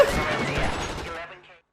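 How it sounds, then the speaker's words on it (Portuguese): A quick burst of rapid gunfire from the video game L.A. Noire crackles close by, then fades out within a second or two. "Nossa, tô ouvindo daqui os tiros. Caramba, é muito tiro."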